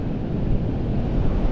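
Strong gusting wind buffets the microphone on an open beach, a loud, steady low roar with surf-like wash and no voices.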